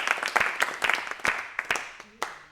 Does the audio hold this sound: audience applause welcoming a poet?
yes